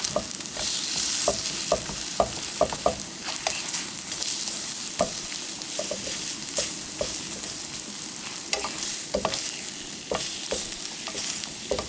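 Steady, loud sizzling of a cabbage pancake frying over high heat, with occasional scraping and pressing taps from a utensil throughout.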